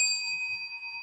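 A bell used as a cue in a stage play rings with a clear, sustained metallic tone that lingers steadily without a new strike.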